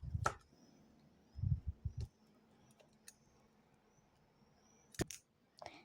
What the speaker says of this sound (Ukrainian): Нам знадобляться ножиці.